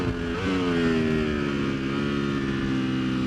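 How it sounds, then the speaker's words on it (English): A 2019 Ducati V4S motorcycle engine roars at high revs while ridden, holding a steady, loud whine with a slight pitch shift early on, continuous throughout. "ripping a Ducati V4S"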